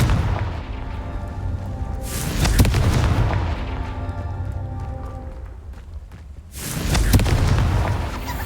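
Confringo fire spell explosions in Hogwarts Legacy, two heavy booming blasts a few seconds apart, each with a long rumbling tail and faint crackling debris in between.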